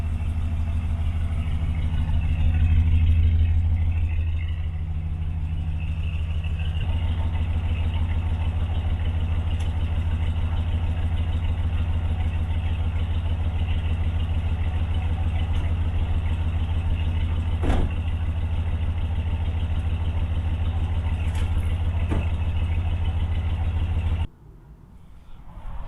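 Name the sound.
1970 Buick Estate wagon 455 big block engine idling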